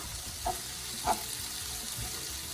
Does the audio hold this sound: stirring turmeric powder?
yes